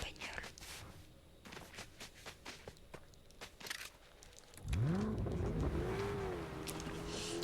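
A game car in Fortnite starts up midway and accelerates, giving a rising and falling engine whine after quieter footsteps and shuffling with soft talking.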